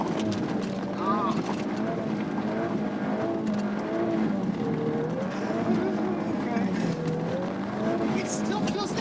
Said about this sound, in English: it's not drifting as easily as the ID.4 did